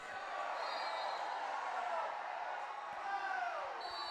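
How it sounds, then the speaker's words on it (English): Stadium crowd at a Sultan of Johor Cup field hockey match between Australia and Malaysia, a steady, wide murmur of disapproval and jeering that holds throughout, with a commentator talking over it. "the crowd not happy with the challenge there from Will as he went in on Azimuddin"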